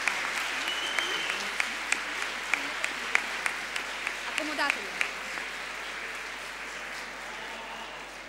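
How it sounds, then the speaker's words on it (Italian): An audience at a school legality-education meeting applauds Agnese Moro, a sustained patter of clapping with a few sharp, close claps standing out, a voice briefly heard under it before the clapping eases slightly. "alla quale direi di fare un applauso"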